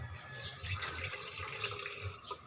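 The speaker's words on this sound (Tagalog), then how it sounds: "Tapos butangan na to sa isa ka baso nga tubig." A glass of water is poured into a cooking pot, making a continuous splashing, gurgling stream at close range with no voices.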